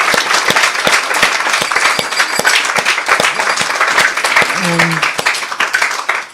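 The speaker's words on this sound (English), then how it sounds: "Please give them a big round of applause." An audience at a spiritual lecture program claps steadily and loudly for several seconds, a thick continuous patter of many hands with a brief tonal sound near the end.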